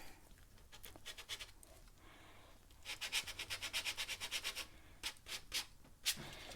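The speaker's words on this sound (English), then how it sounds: "you could take a sharp knife and scrape out some" A sharp knife scrapes across a watercolor painting in quick, faint, rhythmic strokes, a soft scratching close by in a quiet room.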